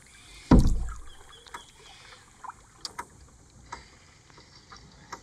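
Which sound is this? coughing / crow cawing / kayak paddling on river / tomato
kayak paddling on river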